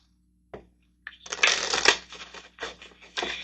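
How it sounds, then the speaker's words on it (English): Tarot cards being shuffled by hand: a brief tap, then a rapid riffling flutter of cards that rises, pauses and resumes in short bursts, close and crisp. "So let's get a couple of cards over here."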